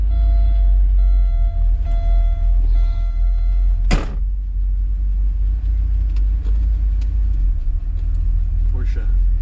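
A 1985 Porsche 928 on a shakedown drive after a dashboard reinstall, its engine and road rumble droning steadily throughout, with a sharp whoosh or knock near the middle and faint scattered clicks.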